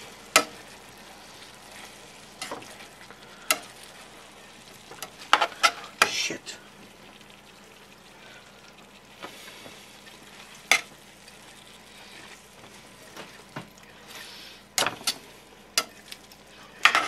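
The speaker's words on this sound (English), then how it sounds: "I'm gonna stir it around and flip it around" Salmon fried rice with tamari sizzles softly in a pan as it is stirred and flipped, with occasional sharp scrapes and clacks of the utensil over the faint frying hiss.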